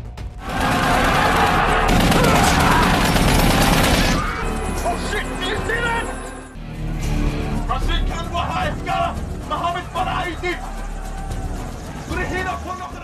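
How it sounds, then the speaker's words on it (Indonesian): Militia fire brutally on a crowd from a car, with bursts of gunfire over vehicle noise and shouting crowd babble, loud throughout with a short lull midway. "tiba-tiba sebuah mobil yang ditumpangi oleh milisi Aidid mulai menembaki mereka secara brutal."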